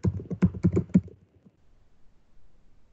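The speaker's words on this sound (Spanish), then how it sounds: "presiono la tecla Enter para moverme hacia abajo y presiono Enter" A few quick computer keyboard key presses, including the Enter key, made while working in PowerPoint: a close cluster of light clicks in the first second, then near silence.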